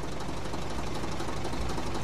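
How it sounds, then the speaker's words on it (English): Lindner tractor engine in the Professional Farmer 2014 video game, a steady low chugging drone with a faint knocking rhythm while ploughing, held at constant loudness throughout with no talking. "We're in our Linder tractor."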